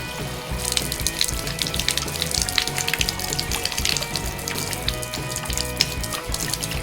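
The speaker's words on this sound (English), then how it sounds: "there's the extra water going down our finished drain" Excess water from a newly installed shower valve runs into the finished drain, a steady close splashing gush that continues evenly throughout.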